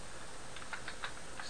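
Light, quick keystrokes tapped on a computer keyboard while entering a command, a short scattered run of clicks over steady background hiss.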